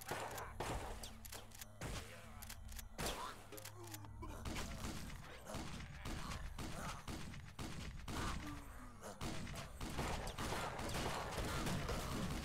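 Rapid gunfire from the video game Utopia 9 on Switch, with repeated sharp shots and impacts over a steady game soundtrack and effects throughout.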